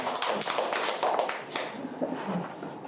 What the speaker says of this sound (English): By the way, a big clap for that.